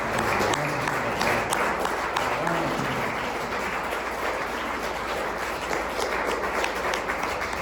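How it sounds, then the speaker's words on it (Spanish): Church congregation applauds during a Spanish-language service, a steady, full wash of clapping from many hands lasting throughout, with some voices underneath. "Denle un aplauso a Cristo,"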